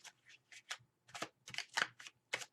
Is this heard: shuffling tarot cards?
yes